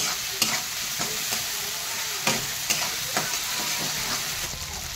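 A spice paste of ground chili, cumin and ginger fries in a pan with a steady close hiss, while a spoon scrapes and stirs it in several sharp, uneven strokes.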